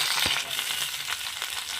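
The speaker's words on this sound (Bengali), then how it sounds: "পেঁয়াজটা ভাজা হয়ে গেছে।" Chopped onion sizzles in hot oil with five-spice, giving a close, steady frying hiss broken by small crackles and pops, with no voices.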